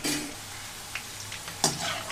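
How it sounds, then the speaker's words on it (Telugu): Okra pieces stir-fried in oil over a medium flame give a steady soft sizzle, with a few light stirring scrapes and taps rising briefly above it. "మీడియం ఫ్లేమ్లోనే ఉంచి కలుపుకుంటూ వేయించుకోవాలి ఇక్కడ బెండకాయ ముక్కలు మనం."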